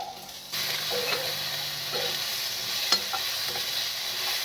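Chopped garlic and ginger roasting in a pan, a steady moderate sizzle starting abruptly after a brief quiet moment, with faint stirring scrapes and a small clink near the end.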